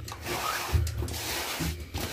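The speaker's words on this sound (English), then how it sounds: "now I'm just taking a damp sponge and like wiping it" A damp sponge wiped across a stroller, giving a soft continuous rubbing and scrubbing noise, close and quiet, with no voices.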